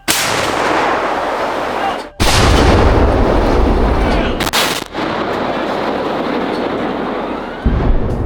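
Ukrainian tank cannon firing in a forest battle, a series of huge close blasts with long rumbling echoes between them, two sharp reports standing out above the sustained roar.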